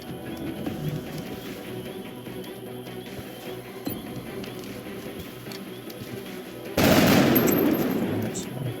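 Video game gunfire rattles in rapid bursts over a busy background of game sounds, turning louder and denser near the end.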